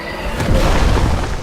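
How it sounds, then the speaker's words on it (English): A deep, loud boom bursts as an enemy raises its axe in Dark Souls: Artorias of the Abyss, a single heavy explosion with a rumbling low tail filling the whole moment. "That explosion when they pull up their axe probably hurts more than the actual axe itself."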